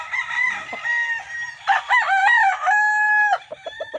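A gamefarm broodstag rooster crows loudly and close by, a long strained call followed by a few shorter clucking notes.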